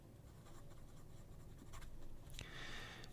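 A Wingsung Junlai 930 fountain pen with a steel number 9 medium nib scribbles on paper, a continuous close scratching that grows slightly louder midway, ending in a brighter, rougher stretch of strokes.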